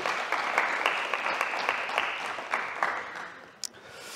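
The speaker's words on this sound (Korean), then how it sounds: "우리 격려의 박수 한번 하겠습니다" A Korean church congregation in Berlin claps together during a Parents' Day service, a steady mass of applause from many hands that fades out near the end, with a brief sharp knock just before it stops.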